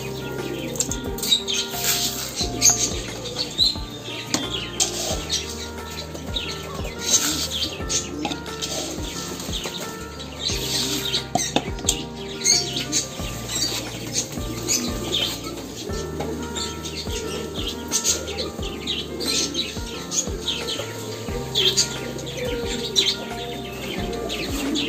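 Pigeons of many kinds in a loft give repeated coos and chirps, with bursts of flapping wings, busy and continuous at moderate distance with no talk.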